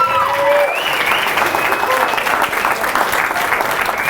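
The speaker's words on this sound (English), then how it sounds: "Big round of applause." Audience applause and crowd noise at a live stage show, sustained clapping from a packed hall, loud and close, with a brief whistle or voice rising over it at the start.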